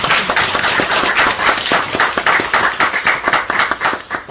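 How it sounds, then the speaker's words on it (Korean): A church audience at a book concert on heresy gives a round of clapping, with dense, steady hand claps that fill the moment without any voice on top. "박수 한번 주시죠"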